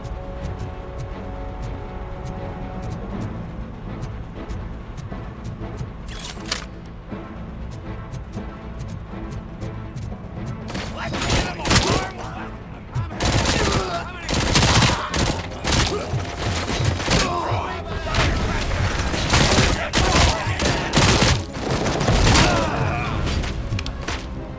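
Gunfire in the video game RoboCop: Rogue City: a quiet humming ambience gives way to loud, sharp shots and heavy thuds in irregular bursts through the second half.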